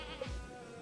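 Sheep in the farming game Stardew Valley letting out a single short bleat, brief and faint, over soft game background sound.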